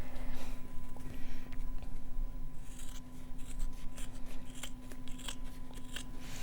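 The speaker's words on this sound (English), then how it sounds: "Sharp scissors. It's a gorgeous sound, isn't it?" Sharp scissors snip through quilting fabric in a sewing studio, a quick run of crisp cuts over a steady low electrical hum, close and moderately loud with no talking.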